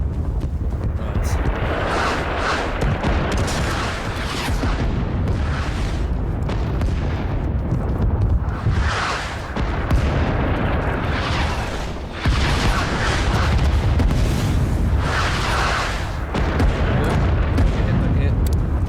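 Repeated explosions and heavy gunfire rumble through a Cold Waters submarine battle, a dense, loud barrage of booms pounding almost continuously while voices talk over it.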